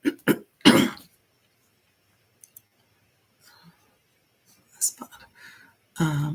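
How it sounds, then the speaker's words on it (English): A few sharp coughs and throat-clearing bursts come up close, followed by quiet clicks, faint whispering, and then a voice talking. "That was actually a cough, clearing my throat."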